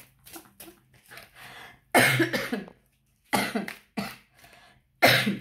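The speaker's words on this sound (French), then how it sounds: "Je tousse. Ça va se calmer." Several harsh coughs in bursts, close and loud, separated by short quiet gaps, with softer throat sounds between fits.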